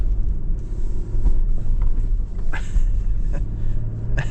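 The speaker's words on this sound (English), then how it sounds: "It's just ripping over those mounds with no problem whatsoever." A 2025 Lexus LX 500d Overtrail with full-time four-wheel drive rolls over off-road mounds, a loud continuous engine and tyre rumble with occasional thumps and creaks as it crosses the bumps.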